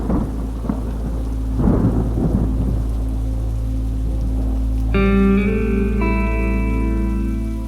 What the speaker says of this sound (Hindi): बाहर बारिश की बूंदें पक्के फर्श से टकराकर जो ध्वनि पैदा कर रही थीं